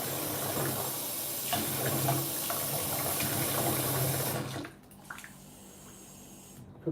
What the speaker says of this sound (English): Hot water. Hot tap water.